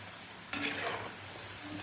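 Cauliflower pokkavada fritters sizzle steadily in hot oil, with a sudden burst of splashing and a brighter crackle as they are stirred and turned over, up close.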